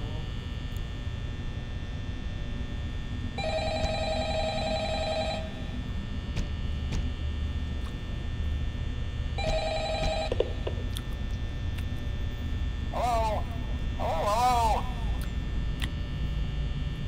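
Telephone ringing in the Five Nights at Freddy's video game, two bursts of steady electronic ringing over a constant hum, with faint game noises following.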